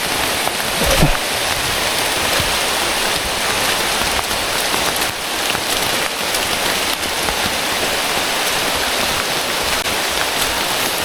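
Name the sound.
heavy rain on a mountain trail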